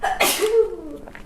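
A single loud, sharp sneeze right up close, a quick intake followed by a forceful burst that trails off.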